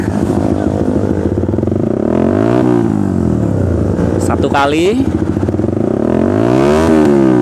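A Suzuki Satria Fi150 motorcycle with a loud racing exhaust idles roughly, then revs sharply a few times. Someone speaks briefly over the engine.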